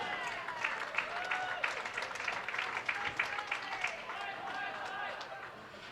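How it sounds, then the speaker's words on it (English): Fans at a women's senior bowling stepladder final cheer and clap in a quiet, fluttering burst of scattered claps and voices that fades toward the end. "That was a fantastic cheer right there."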